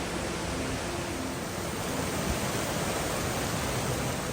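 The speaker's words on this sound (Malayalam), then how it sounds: "അപ്പോൾ ഈ കാണുന്നതാണ് വെള്ളച്ചാട്ടം" A flat, spreading waterfall in the village of Vattavada roars as a steady, dense rush of white water that fills the whole clip without a pause, close and even, with no voices.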